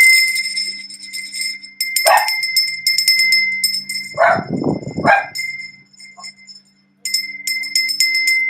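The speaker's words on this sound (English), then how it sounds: "Let me ring the bell" A small bell rings during a tarot reading with incense burning, giving bright sustained tones that recur in strikes and linger between them, with a brief voice partway through.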